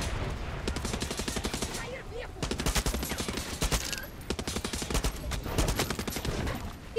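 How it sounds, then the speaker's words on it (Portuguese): Dense, rapid gunfire bursts in the video game Far Cry 6, loud and nearly continuous with short gaps, like a fusillade of automatic weapons in a battle. "Quem é esse, mano, que tá atirando assim?"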